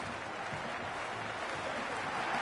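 Steady broad roar of a large stadium crowd in the cricket video game Cricket 26 during a World Cup final, a dense, even wash of cheering and applause-like noise that holds at a constant level throughout.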